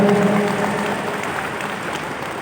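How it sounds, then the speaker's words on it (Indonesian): Audience applause at a cooperative character-building workshop in Nganjuk, a steady dense clapping wash that tapers slightly over a couple of seconds, with faint tonal hum lingering early on. "Tepuk tangan dulu Anda semuanya."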